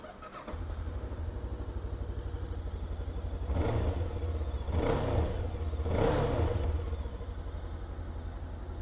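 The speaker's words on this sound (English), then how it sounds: "So let's start this engine" A Kove 500cc motorcycle engine starts up and idles steadily, then is revved three times in quick bursts before settling back to a rumbling idle.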